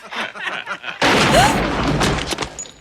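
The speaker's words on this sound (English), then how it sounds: "they're just tearing him up with shotguns" Shotgun blasts from a violent scene in the 1987 film RoboCop, a sudden loud boom followed by a dense crashing roar and further sharp hits, with voices and soundtrack underneath.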